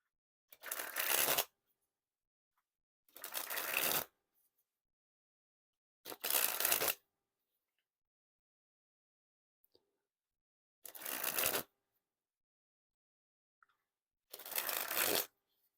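Bicycle Astronaut playing cards are sprung from hand to hand in five separate bursts of fast, riffling flutter, each lasting about a second, with quiet pauses between them.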